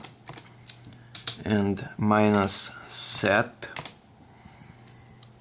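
Keys tapped on a computer keyboard while entering a Windows bcdedit command, heard as close, quick clicks at the start and end, with someone speaking in between.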